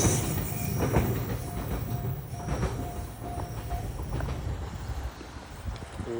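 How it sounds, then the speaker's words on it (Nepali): A train in Japan rumbles and clatters steadily in the open as it arrives in rain, with wheel squeals and a broad wash of rain noise throughout. "तर पानी पऱ्यो, ट्रेन पनि आइदिरहेको।"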